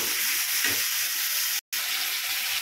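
Chicken pieces sizzling hard in hot oil in a pan while being stirred, a loud, dense, continuous frying hiss close by that cuts out briefly for a moment, with no voices.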